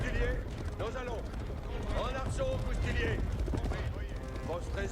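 Rhythmic hoof clip-clop of trotting horses in a game, under steady background noise and sound effects, with occasional whinny-like tones.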